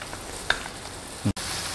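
Garlic sizzles steadily in hot oil in a pan while pasta con anchoas is being cooked, with a small clink partway through and a brief clunk near the end.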